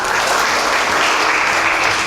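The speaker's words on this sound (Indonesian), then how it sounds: "Beri tepuk tangan buat Tuhan Yesus" Church congregation clapping together in steady, dense applause, loud and continuous throughout with no talk over it.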